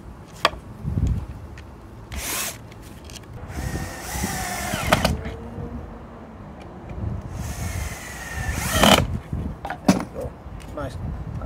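Power drill driving 3 inch screws into the thick wooden frame of a compost sifter, with a few short bursts of whirring that stop and start across the clip and are heard close and fairly loud.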